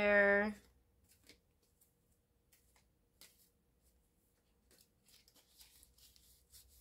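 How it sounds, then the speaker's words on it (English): Deck of playing cards being shuffled by hand, a brief voice at the start followed by soft scattered riffles and flicks, faint and intermittent in a quiet room. "I'm feeling one more shuffle. I gotta shuffle good today."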